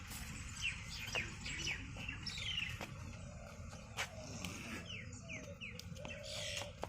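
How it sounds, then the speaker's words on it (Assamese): Several birds chirp and call outdoors at a resort on Majuli island, repeated short bright twitters and sweeping whistles scattered across the stretch, fairly faint over a soft steady background hum. "চিৰিকটিবোৰৰ আৱাজ বাঢ়ি আছে"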